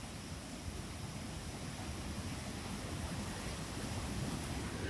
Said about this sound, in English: Now we are above the waterfall.